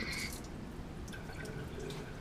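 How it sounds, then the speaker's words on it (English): Water drains and trickles out of a bucket in a rotary evaporator lab setup, a steady close dripping, splashing flow that runs the whole time at an even level. "And we're going to drain that bucket."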